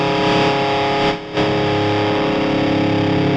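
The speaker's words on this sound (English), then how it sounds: "after a certain point, it only distorts more" A heavily distorted guitar tone comes from the Audio Assault Amp Locker amp simulator, with thick sustained chords held loud and close, breaking off briefly once before ringing on, and no voices.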